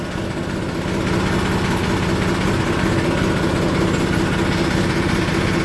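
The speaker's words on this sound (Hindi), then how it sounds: "आज बड़ी गोड़ आवाज में स्टार्ट हुआ। सर्दियों में इंजन टाइट हो गया इसका।" A tractor engine with a stiff, winter-tightened engine idles just after starting, a steady loud close rumble with a fast even throb throughout.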